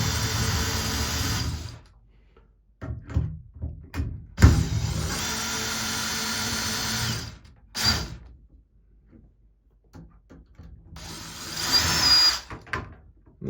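Power drill backing screws out of a shower escutcheon plate, several whirring bursts of the motor separated by quiet gaps and small clicks and knocks, close and without talk.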